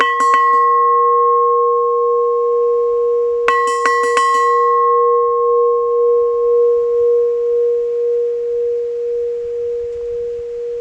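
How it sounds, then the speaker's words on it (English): A bell rings at a cabin on a mountaintop: a pure, sustained tone with a few quick struck hits partway through, then a long, slowly fading hum heard alone. "I heard some people down below ringing their bell, so let's ring ours."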